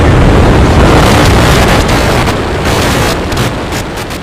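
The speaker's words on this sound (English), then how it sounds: "We have liftoff." The engines of a SpaceX Starship rocket roar at liftoff in a loud, broad, continuous rumble that holds steady and then eases slightly.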